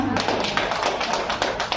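A small group of teachers clapping at a school training session, with steady, fairly close claps in an even rhythm and no talking over them.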